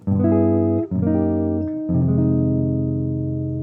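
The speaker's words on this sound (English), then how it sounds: "I really really love the sound of those triads moving in half step like that." Sustained triad chords ring out in three blocks, each chord shifting by a half step, with a brief gap between the first two; no voices.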